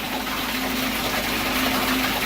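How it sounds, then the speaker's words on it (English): RO/DI water filling the container of an aquarium mixing station, a loud, steady rushing and gushing flow with a faint pump hum beneath, close and unbroken. "So this is going to fill up."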